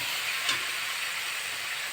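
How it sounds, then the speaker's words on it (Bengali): Chicken skin dropped into hot spiced oil in a pan for a chicken-skin and potato dish, giving a loud, steady sizzling hiss with a small thump near the start. "এবার আমি মাংসটা দিয়ে দেবো। দিয়ে ভালো করে কষে নেব।"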